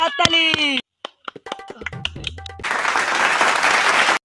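A studio audience at a game show claps together, a dense burst of applause rising after a few sharp claps and brief speech, then holding loud and even until it stops.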